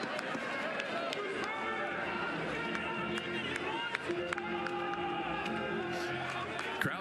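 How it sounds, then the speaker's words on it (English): Crowd cheering at a college baseball game between Oklahoma and Mississippi State at L. Dale Mitchell Park, a dense, continuous roar of many voices with voices talking over it. "Crowd's been into it from the get-go tonight."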